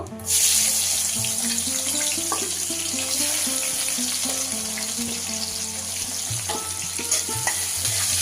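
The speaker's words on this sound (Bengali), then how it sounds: "পেঁয়াজটা দিয়ে একটু হালকা লাল করে ভেজে নেব পেঁয়াজগুলো" Sliced onions fried in a wok after a cumin and nigella seed tempering for a village-style eel curry, giving a continuous loud hiss with occasional stirring scrapes close by and no voices.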